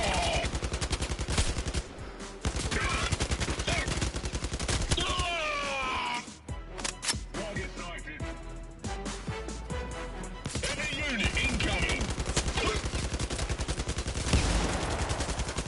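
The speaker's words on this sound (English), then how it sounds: "Look at this blind fire. It's perfect." Blind fire from a gun in the PSVR shooter Blood & Truth: a long, continuous stream of rapid automatic shots, loud and close, briefly dipping midway before resuming just as intense.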